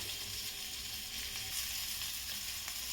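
Potatoes fry in a pan with turmeric, Kashmiri chili and salt for a Makar Sankranti khichdi, giving a steady, close, even sizzle with no pauses and no talk.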